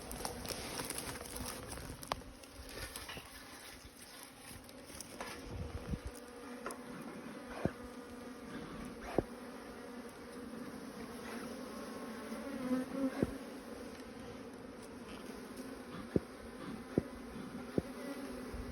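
Bees buzzing around an opened hive after a dose of smoke, a steady low hum of many insects close by, with occasional faint clicks and knocks over the drone.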